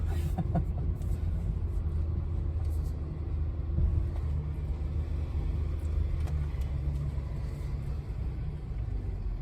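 A Land Rover climbs and descends a steep off-road slope, its engine giving a steady low rumble close by throughout, with faint voices now and then beneath the drone.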